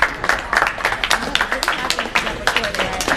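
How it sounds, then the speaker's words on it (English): A classroom audience claps in a dense, irregular patter of sharp hand strikes that carries steadily from start to finish at moderate loudness, with no voices standing out. "so after all the clapping"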